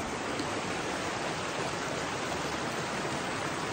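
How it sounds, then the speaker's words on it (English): A small river flowing along a trail crossing in the morning, a steady broadband rush of moving water that stays even and fairly loud throughout with no voices. "Crossing over this little river right here"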